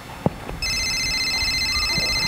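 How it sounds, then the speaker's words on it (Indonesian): A telephone rings with a steady electronic tone that begins after a soft knock and continues unbroken to the end, fairly clear and close. "Nah, ada telepon."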